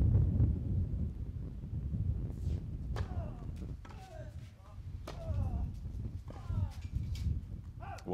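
Gusty wind buffets the microphone at an outdoor tennis court during a Challenger tournament semifinal, a steady low rumble throughout, with commentators talking over it and occasional ball strikes.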